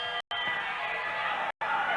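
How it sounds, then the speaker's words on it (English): A wrestling arena crowd roars loudly and continuously during a cat fight, broken by two brief cuts of silence, with a voice speaking over the din. "Cat fight, and the crowd goes crazy."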